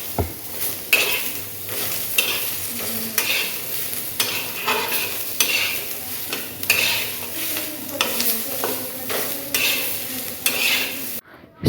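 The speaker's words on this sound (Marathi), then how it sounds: "त्यामध्ये आपण लसूण अद्रक टाकायचं आणि तुम्ही टोमॅटो पण टाकू शकता" Garlic, ginger and tomato gravy sautéing in a pan, with steady sizzling and frying broken by repeated stirring scrapes and clinks of a utensil against the pan, close and continuous with no talking.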